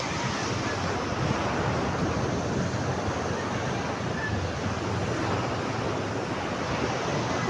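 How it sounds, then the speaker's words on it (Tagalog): Strong wind rushes and buffets the microphone continuously on the shore at Bacoor, Cavite, with the wash of water surf blending into the roar. "Mahangin guys."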